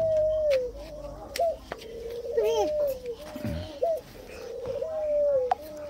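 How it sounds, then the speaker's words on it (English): Pigeons coo nearby in soft, repeated warbling calls that rise and fall. A child babbles and an adult talks over the birds. "These are pigeon."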